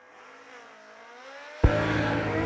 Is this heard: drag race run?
yes